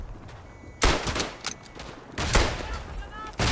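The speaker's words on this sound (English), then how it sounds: "You've got 5 rounds in your bolt action, and you're gonna want to make those count like this." Bolt-action rifle shots in the WW1 shooter Tannenberg: three loud, sharp cracks spaced about a second and a half apart, each trailing off in a short echoing tail, with quieter battlefield noise between them.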